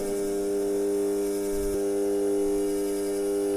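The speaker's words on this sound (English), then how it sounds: "The sound you are hearing right now is due to the vibrations produced in the string." A sonometer string driven by AC mains vibrates with a steady electric hum. The tone is sustained and even, with a small knock partway through and no talking.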